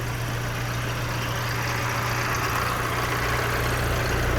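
A 2018 Isuzu six-wheel truck's diesel engine idles nearby with a steady low rumble and even vibration, unchanging for the whole stretch.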